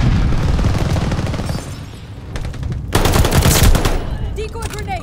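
Rapid gunfire bursts in Call of Duty Vanguard from a decoy grenade, loud rattling automatic fire with heavy low rumble and a sharp crackling volley partway through, with faint voices behind.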